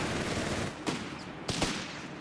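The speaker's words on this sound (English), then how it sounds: "Machine gun keeps trying to catch up with them, and it just doesn't work out up here." Sustained battlefield gunfire from Company of Heroes 3, machine gun bursts rattling continuously with a couple of sharper louder cracks standing out over the din.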